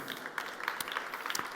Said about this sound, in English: Big applause, ladies and gentlemen.